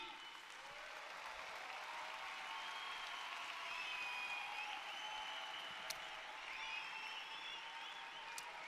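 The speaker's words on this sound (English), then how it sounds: "give him a massive round of applause" Crowd applause at a business convention in Budapest, sustained and fairly distant-sounding, with a faint voice or two and a whistle-like tone rising briefly above the steady clapping.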